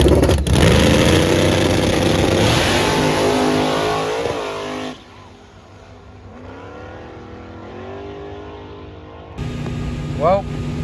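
A no-prep drag race car launches at a Black Friday race, its engine roaring loud and near, then dropping off as it pulls away before another burst of engine noise returns.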